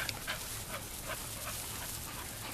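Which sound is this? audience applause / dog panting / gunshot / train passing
dog panting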